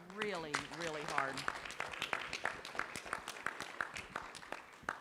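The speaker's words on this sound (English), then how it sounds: "we need to give our superintendent, Velma Solis Garcia, and her staff a round of applause" A community meeting audience gives a round of applause for a school superintendent and staff, steady scattered clapping from a crowd in a hall, fairly faint, following a man's speech at the start.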